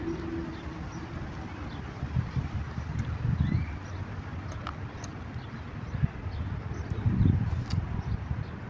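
Steady wind rumbles and buffets against the microphone outdoors in a park, with gusts swelling now and then and faint bird chirps in the background.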